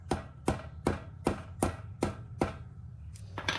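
A pencil taps down on a ball bearing to seat it in a BSA unit-single motorcycle engine during a sump fix, giving seven evenly spaced sharp, close taps with a brief scuffle at the end.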